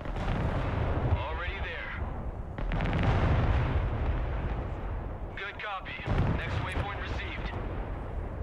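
Artillery fire in the video game Broken Arrow, heavy booming blasts and rumbling impacts recurring across the match, with voices talking over them.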